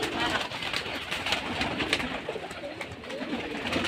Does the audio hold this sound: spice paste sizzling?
no